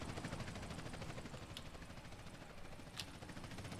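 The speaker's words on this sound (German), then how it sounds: "Aha, das ist nur ein News-Helikopter." A news helicopter flies in GTA San Andreas, its steady rotor drone holding an even, continuous level the whole time with no speech over it.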